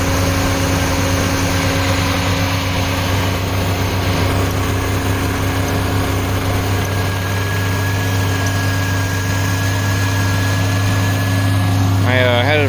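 A GM 3.1 V6 idling in a U-body minivan, a steady low hum with an even mechanical drone that holds unchanged throughout, close and continuous with no one speaking.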